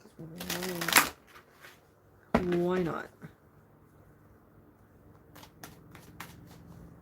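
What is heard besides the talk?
shuffling cards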